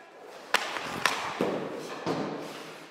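Hockey pucks are shot at a goalie during a reaction-time training session: a few sharp, separate thuds and cracks spaced about a second apart over a steady rink hum, with no talk.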